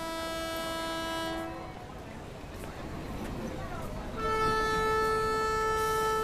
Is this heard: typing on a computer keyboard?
no